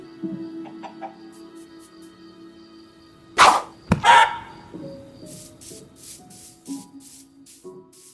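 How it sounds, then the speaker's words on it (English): Blocky video-game chicken clucking as it is struck and killed by a player, two sharp thwacks and squawks midway over a quiet ambient music track with soft tones. "you can hear a chicken being killed by what I assume is a player"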